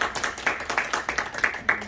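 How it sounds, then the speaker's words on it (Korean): A church congregation claps in a short burst of rhythmic, fairly close handclaps, only a few hands beating in loose unison. "우리 그동안에 수고했는데 한번 박수해 주시면 고맙겠습니다."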